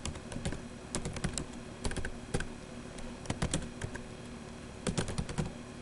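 Fingers tap steadily at a computer keyboard, with quick clusters of clicks and short pauses, close and fairly quiet, with no voices.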